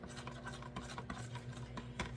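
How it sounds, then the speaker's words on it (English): Melted Stephensons melt-and-pour soap, tinted pink, stirred in a container: a quiet, continuous scraping and rubbing with faint repeated strokes. "Make sure I stir it up really well."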